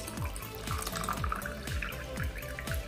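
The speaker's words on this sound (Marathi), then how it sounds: "आणि यामध्ये मी फ्रीजमधलं एकदम थंड पाणी घालते।" Ice-cold water from the fridge pours steadily into a glass of raw mango pulp, a continuous close, bubbling gush with repeated gurgling pulses.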